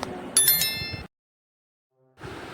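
Bright bell-like notification chime for a subscribe button, two quick metallic dings ringing out over a busy background, then a brief silence before the background returns.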